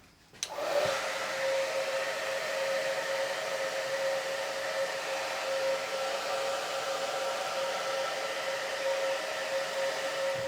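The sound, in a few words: hair dryer blowing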